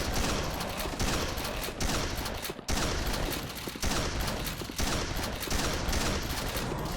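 Dense, continuous gunfire from Quake as monsters fight among themselves, rapid overlapping shots and bursts with brief dips, loud and unbroken throughout.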